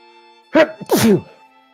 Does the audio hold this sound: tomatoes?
no